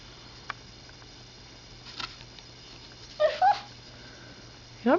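A small child makes a few short, high yapping barks in imitation of a dog, with quiet pauses between them.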